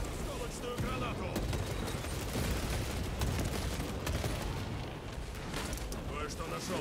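Grenade explosion in Warhammer 40,000: Space Marine 2, folded into a continuous, loud, dense roar of blasts and rapid gunfire that lasts throughout without a break.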